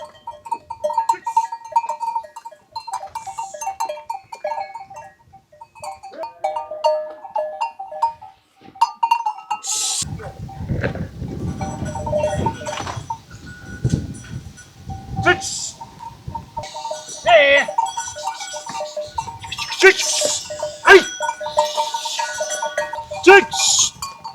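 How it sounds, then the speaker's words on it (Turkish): Sheep bleating at intervals amid a busy outdoor scene, with shuffling, clattering and occasional people talking in the background. "Evet şu an koyunları Ahmet amca çıkarıyor."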